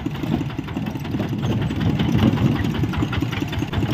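A motorcycle engine idles at a steady low rumble, continuous and fairly close, with no talk over it.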